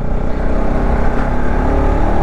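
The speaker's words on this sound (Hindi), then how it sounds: "गाड़ी पिकअप तो खैर अभी भी उठा रही है, पावर तो अभी भी है" Bajaj Pulsar RS200 motorcycle engine, about 40,000 km old, running hard and pulling under acceleration, a loud steady roar close by with no talk.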